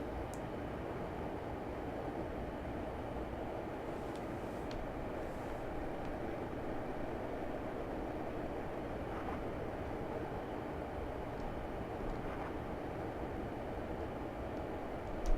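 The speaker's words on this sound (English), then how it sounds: "The track on the Heysham branch certainly isn't up to the standard that it is on the main line, so that accounts for the rather bumpy ride" Class 142 Pacer train in the Train Simulator game runs along the rough Heysham branch line with a bumpy ride. A loud, unbroken rumble of engine and wheel noise carries throughout, with no voices.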